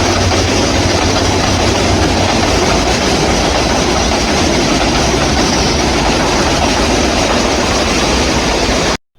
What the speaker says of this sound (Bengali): তো ট্রেন গেল সেটাও দেখে নিলাম